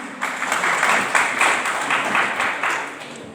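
An audience at a campus speech competition bursts into loud, sustained applause, dense clapping that stays full for several seconds, with a few voices faintly mixed in.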